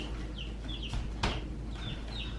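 Young chicken clucks and peeps in short bursts, several soft calls close by over low background hum, with one brief rustle in the middle.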